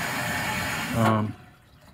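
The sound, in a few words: hot water flowing through hose into washing machine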